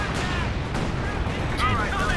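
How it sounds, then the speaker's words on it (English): Artillery barrage in Company of Heroes 2 during a 2v2 match, heard as dense continuous rumbling blasts and crackling gunfire layered over a busy battlefield din, with a voice talking over the top. "Those were barrages as well, so well targeted by cblanco, catching it on retreat"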